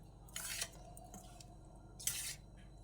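Gram flour batter with egg and onion for pakoras is worked by hand, giving two soft, wet squelching bursts a second or so apart, quiet and close with no voices.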